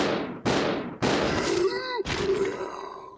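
Rapid gunfire from a fast-firing gun in the video game Resident Evil Zero: three or four loud, sharp bursts in quick succession, with ringing electronic effect tones between the shots.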